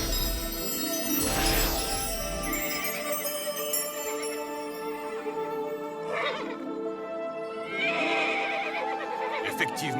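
Horses whinny and neigh in two or three loud bursts over a steady musical backdrop, with faint hoof clatter; no talk.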